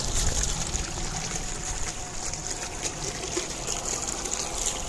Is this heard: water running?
yes